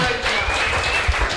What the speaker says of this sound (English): Let's have a big round of applause for Elijah.